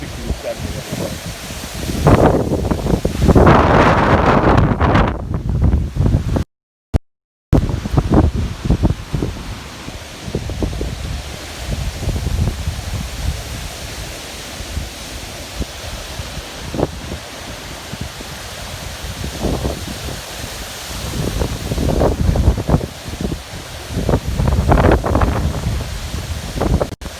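Strong wind gusts from Tropical Storm Isaias roar across Long Island, loud buffeting surges and rustling through trees rising and falling over the whole stretch, with a brief dropout partway through.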